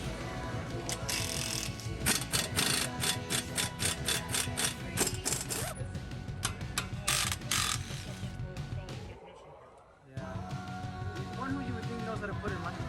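A ratchet clicks repeatedly while loosening the bottom strut bolts and steering knuckle on a Subaru Outback being lowered, busy mechanical clatter throughout with a brief pause near the end, and a voice speaks over it.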